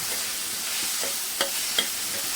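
Kantola (spiny gourd) being stirred in oil in a pan gives a steady soft sizzle with two brief spatula scrapes, close and alone.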